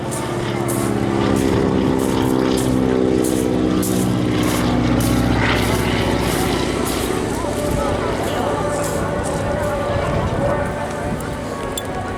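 A Boeing Stearman biplane carrying wingwalkers at the Eastbourne Airshow drones past with a loud, sustained propeller-engine roar, its pitch shifting slightly as it flies, while a commentator talks over it throughout.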